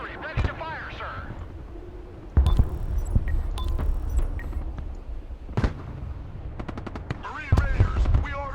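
Military video game battle with repeated gunfire bursts and sharp artillery-like blasts, some loud and close, others distant, while radio-style voices speak throughout.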